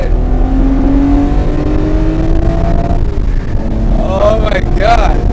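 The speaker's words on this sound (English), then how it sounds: "I hear my fucking intakes for a bit." BMW M5 accelerating with loud induction noise from the engine intakes, a rising roar that climbs and repeats through gear changes, close and loud, with people talking briefly over it.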